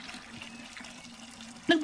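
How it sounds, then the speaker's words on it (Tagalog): A water tap opened indoors gives a soft, steady running trickle, faint and continuous, ending with a brief louder splash or clatter. "Nagbukas ang gripo?"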